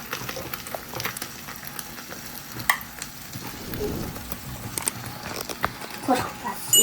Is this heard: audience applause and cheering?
no